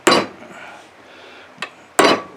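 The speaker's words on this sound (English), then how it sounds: "I've got my little hammer here" A small hammer strikes metal twice with sharp, ringing clanks about two seconds apart, with a faint lighter tap between them.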